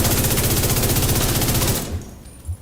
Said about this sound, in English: once you've built up that meter, then you're spitting fire bullets